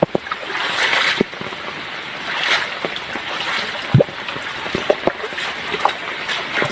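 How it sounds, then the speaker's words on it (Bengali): Floodwater flows across a road in Gopalganj, Bangladesh, where nets are set for fish: a steady, close rushing wash with scattered splashes and knocks throughout, and no voices. "বন্যার পানি"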